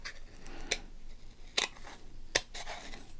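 Scissors snipping through football trading cards, giving three crisp, close cuts spaced about a second apart over a quiet background, with no talking.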